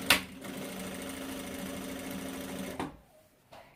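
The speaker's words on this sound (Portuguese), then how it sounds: "E vou passar uma costura dos dois lados." Sewing machine stitching along a handbag strap, a steady close whirring run of just under three seconds that stops abruptly, followed by faint handling noise, with no talk.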